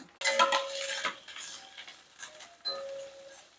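A spoon scrapes and clatters in a pan while stirring lentils, chillies, curry leaves, carrot, beans and onion, with two close bursts of metallic scraping separated by quieter taps.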